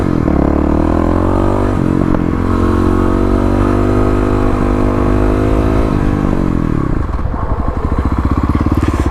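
A motorcycle engine runs loud and close, with a steady drone that drops in pitch as the bike makes an emergency hard stop in a parking lot, ending in a lower, rougher idle.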